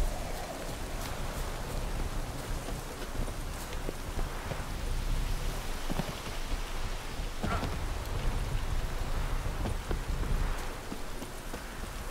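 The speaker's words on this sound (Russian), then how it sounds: "Такой дождь пошел" Steady in-game rainfall in The Witcher 3: Blood and Wine, a continuous hiss of rain on surfaces with scattered droplet ticks and occasional low rumbles, lasting the whole stretch without talk.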